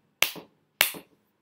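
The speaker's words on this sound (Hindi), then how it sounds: "लेफ्ट हैंड में तीन बार ताली बजाएंगे ऐसे" Two crisp, close hand claps into the left hand, struck during a Kali tantra ritual, sound about half a second apart in a quiet room.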